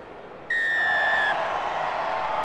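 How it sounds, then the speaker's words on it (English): A referee's whistle blows for kickoff at an Exeter vs Bath Premiership rugby match: a single sustained, bright blast lasting close to a second, heard over steady crowd noise in the stadium. "We are underway as the whistle sounds."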